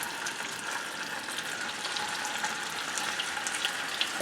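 Scallops sear in a very hot, smoking pan, giving a steady, dense sizzle that holds evenly throughout, close and fairly loud with no voices.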